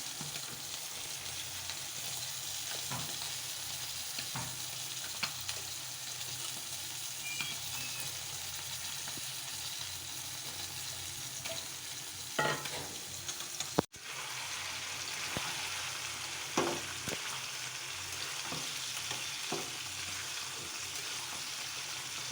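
Chicken stir-fried in spice masala in a pan: a continuous soft, distant sizzle with occasional spatula knocks and scrapes, one brief break midway.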